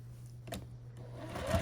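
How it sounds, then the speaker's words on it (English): A sewing machine stitches quilt block pieces together for a scrappy sampler quilt, giving a brief, steady mechanical hum with a short burst of stitching at close range. "just turn it sideways and sew them together like this"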